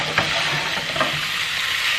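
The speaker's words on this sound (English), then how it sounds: "I'm gonna start throwing it in the hot pan." Steady broadband sizzle of chorizo frying in a hot pan, with a couple of soft stirring clicks near the start; no voices.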